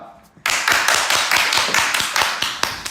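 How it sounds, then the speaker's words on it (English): A person claps their hands in a steady series of sharp, loud claps during dog training with a Malinois, about a dozen evenly spaced hits close to the microphone. "See, the clap matters."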